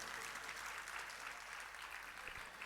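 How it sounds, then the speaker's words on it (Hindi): Audience applause at a Navratri religious discourse, a continuous, fairly faint patter of clapping hands, even and unbroken for under three seconds. "मुझे पता था आप तालियां बजाएंगे, लेकिन इतना नहीं पता था कितनी मरी मराई कमजोर तालियां बजाएंगे"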